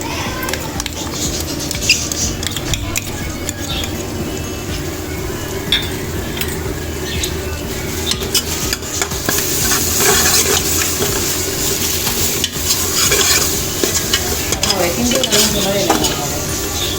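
Ginger garlic paste fries in hot oil with coriander and mint for chicken biryani, a steady close sizzle broken by repeated spatula scrapes and clatter against the pot, louder in the latter half, with no talking.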